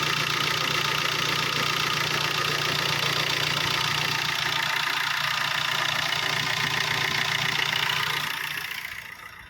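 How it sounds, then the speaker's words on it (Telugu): A 2017 Tata Bolt engine idles smoothly at a constant low rumble with the AC running, then the sound drops away near the end as the engine shuts off. "చాలా సైలెన్స్ ఉందండి ఇంజన్"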